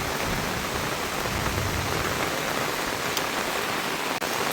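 A heavy storm shower over Vaddukoddai in Jaffna, Sri Lanka, keeps up a loud, constant hiss of falling rain up close, with one brief sharp click near the end and no talking.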